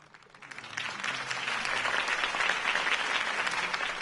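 Video game crowd applause swells from a quiet start into steady, dense clapping that holds at a fairly loud level for several seconds.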